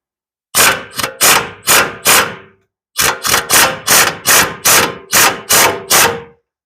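Loud ratcheting bursts come in two groups of about five and seven as a nut is taken off the upper control arm of a 2013 RAM 1500, close up, with a short pause between the groups.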